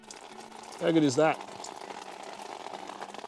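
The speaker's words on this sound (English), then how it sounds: "There's your water coming through there, folks." Water runs steadily through a Companion AquaHeat portable camping shower, a soft continuous hiss with a brief voice cutting in near the start.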